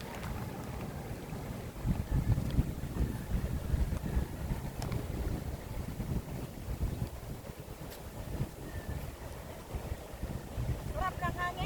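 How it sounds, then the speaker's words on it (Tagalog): Wind gusts and rumbles against the microphone in a continuous, rough roar while someone walks through rice fields, with faint footsteps and outdoor sounds underneath. "Sarap ng hangin."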